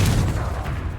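Confringo fire spell blast in Hogwarts Legacy on Xbox Series X, a dense, loud booming burst with crackling rumble filling one short second, no talk.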